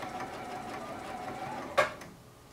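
A sewing machine runs a quarter-inch seam on fabric held without pins, its needle whirring at a steady close pace before stopping with a sharp click and fading to quiet.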